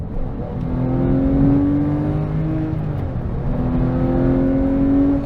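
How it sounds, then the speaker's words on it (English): A Porsche 911 997 GT3 RS accelerating under partial throttle, its exhaust and intake producing a loud, close, rising engine note that climbs steadily, drops briefly at a shift, then climbs again. "The exhaust noise, the intake noise,"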